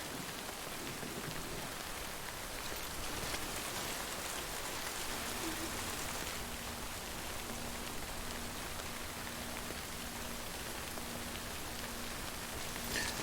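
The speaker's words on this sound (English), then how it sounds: "I hope the rain isn't damaging my gear." Steady rain falling in the video game Death Stranding, a dense, continuous hiss of drops that stays even throughout, with a faint low hum joining partway through.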